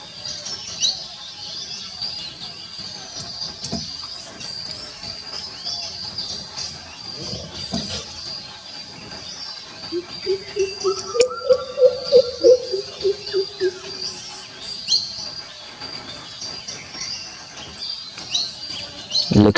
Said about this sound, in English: You can also hear the Indian cuckoo in the backdrop.